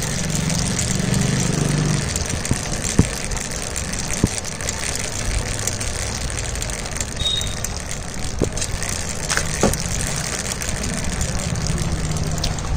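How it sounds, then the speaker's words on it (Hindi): A Hero motorcycle running with a newly fitted original chain kit that still makes noise, giving a steady mechanical drone with faint ticking and rattling, close by and continuous, with no talk over it. "ओरिजिनल चेन किट में भी ये प्रॉब्लम आ रहा है, ये आवाज़ कर रहा है।"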